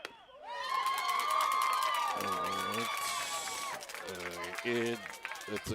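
A high school baseball playoff crowd at a ballpark cheering, whooping and shouting loudly right after a pitch, with excited voices and children's shouts.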